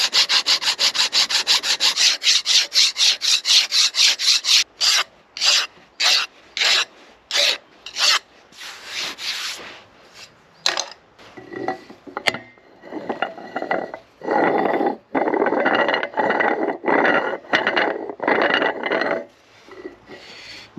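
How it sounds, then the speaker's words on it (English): Rust is scraped mechanically off cast iron parts of a Victorian radial drilling machine, heard as close, loud rasping strokes in a quick regular rhythm, then longer uneven grinding scrubs with short pauses. "I'm using mechanical methods to remove the rust due to the size of the parts"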